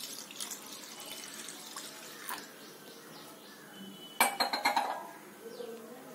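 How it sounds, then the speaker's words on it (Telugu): A glass of water is poured over washed toor dal in a kitchen, a short splashing burst standing out against soft clinks and light handling noises. "కందిపప్పుని ఒక గ్లాసు వాటర్ పోస్తున్నాను."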